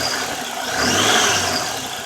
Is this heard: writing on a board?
no